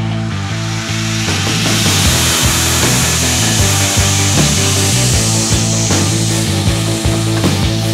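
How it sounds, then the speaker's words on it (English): Steel knife blade blank being ground along its tapers by eye, a loud, steady abrasive grinding roar with a humming machine tone that runs continuously, with no talking. "I need to grind these tapers and this taper."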